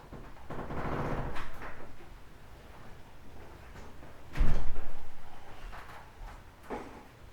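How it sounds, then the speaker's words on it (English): A door in a composites wet-layup lab swings shut, with a muffled thud standing out midway through alongside softer shuffling handling noises before and after. "going to close that door for me"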